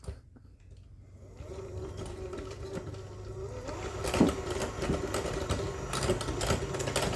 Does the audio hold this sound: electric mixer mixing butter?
yes